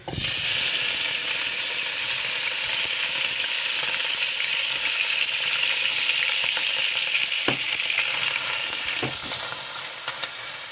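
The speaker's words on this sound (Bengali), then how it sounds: "তেলটা গরম হয়ে গেছে বন্ধুরা আর এই যে শুটকি মাছটা এবার আমি এটা গরম তেলে ছেড়ে দেব" Dried fish dropped into hot oil, a loud continuous sizzle and spatter that holds strongly for most of the stretch, then eases slightly near the end, with occasional clicks of a utensil and no talk.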